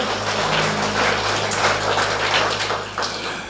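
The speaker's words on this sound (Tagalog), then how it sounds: "Palakpak para kay Lord" A congregation claps for the Lord at a Filipino church service, steady dense applause filling the room for a few seconds over a low sustained musical tone.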